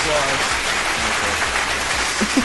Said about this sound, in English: I have an applause button here.